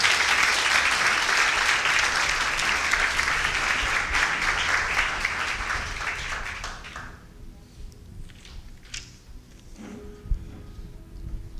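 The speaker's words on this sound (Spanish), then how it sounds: "Darle un fuerte aplauso a Dios" A church congregation gives a loud round of applause to God, thick sustained clapping that fades out after about seven seconds, leaving scattered room noise and a stray knock.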